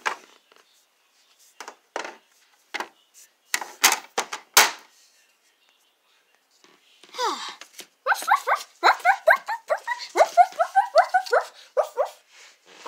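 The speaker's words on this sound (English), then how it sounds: "that's enough barking" Pet dog barking and yipping excitedly indoors near a door, scattered sharp barks at first, then a rapid run of high whining yelps and barks close by.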